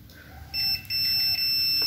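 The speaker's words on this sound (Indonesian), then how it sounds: "walaupun saya pakai mode buzzer, itu buzzernya langsung nyala" A multimeter in continuity mode beeps steadily on a shorted laptop charger: a thin, high tone starts about halfway through and holds almost without a break, close and clear over a quiet room.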